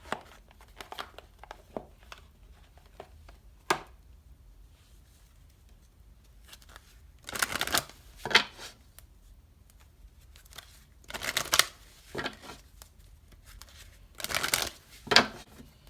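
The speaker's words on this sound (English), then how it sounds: "Let me pull some romance angel cards." Romance angel cards shuffled for a tarot reading, with soft riffling and papery swishes in a few short bursts and quiet handling between them, close by.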